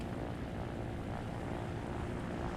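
A funky-looking player-built helicopter flies in Trailmakers, its engine and rotors making a loud, steady, dense rumbling drone that holds constant throughout.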